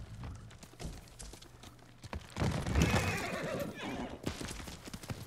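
Horse neighing and clip-clopping hooves in the video game Ghost of Tsushima, a clear whinny in the middle over steady nearby hoofbeats, with faint background noise.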